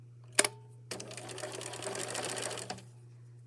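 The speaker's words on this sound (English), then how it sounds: "you're only going to sew it up to the seam at the top, keeping your edges together" A sewing machine stitches a seam in one short, steady whirring run of about two seconds, preceded by a sharp click and set against a constant low hum.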